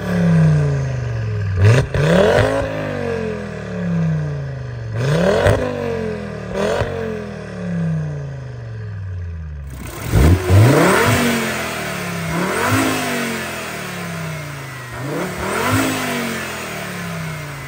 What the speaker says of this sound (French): ce bruit du 5 cylindres, moi j'en suis fan